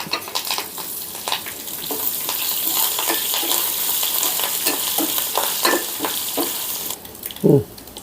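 Cumin, garlic, dried red chillies and curry leaves sizzle in hot oil for a tempering with a steady hiss, broken by occasional stirring clinks and scrapes.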